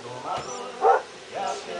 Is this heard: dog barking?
yes